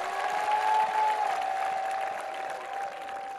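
A church or gathering audience clapping together, a dense sustained round of applause that swells early and slowly tapers, with a faint tonal hum running underneath.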